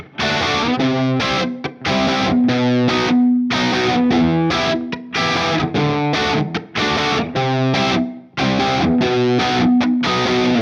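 Distorted electric guitar strums the second-verse chords of a song in a steady, rhythmic pattern with brief gaps between phrases, loud and close.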